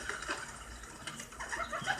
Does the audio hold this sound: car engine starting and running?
no